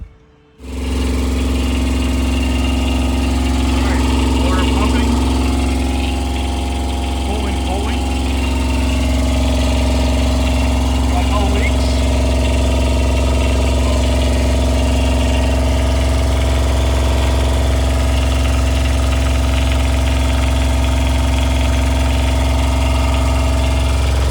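A Fischer Panda diesel generator cranks and starts, then settles into a loud, steady running drone with a constant low hum, heard close and alone after a brief start.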